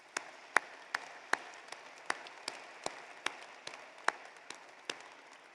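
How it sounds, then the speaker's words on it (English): Sparse, scattered hand claps from a small audience at the 2025 Noorda College of Osteopathic Medicine White Coat Ceremony, a dozen or so distinct claps spaced irregularly in a quiet hall. "So just a round of applause for these individuals, please."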